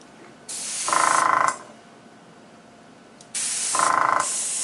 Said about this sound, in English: place it on the cookie, get my airbrush, same as before